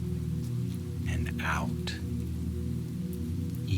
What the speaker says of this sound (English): The rain outside became more distant